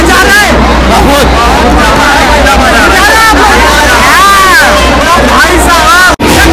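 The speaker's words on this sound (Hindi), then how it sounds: "भीड़ बहुत ही खतरनाक यार" Dense, loud babble of a packed festival crowd at a Durga Puja pandal in Kolkata, many overlapping voices close by with shouts rising above a constant roar and a low rumble beneath.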